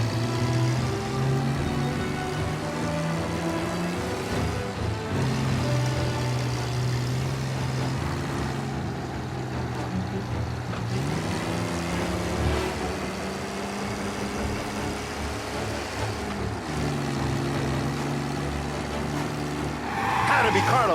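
A car engine drones and shifts pitch as it is driven hard through Mafia: Definitive Edition, loud and steady for the whole stretch under men's conversation, with a brief tire-like screech near the end.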